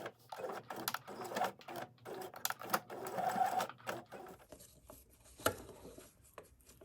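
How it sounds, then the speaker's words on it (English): A sewing machine joins pieces of a pieced quilt block in short, quiet stitching bursts separated by pauses, with faint handling sounds of fabric between runs. "I have pieces 1 and 2 sewn together"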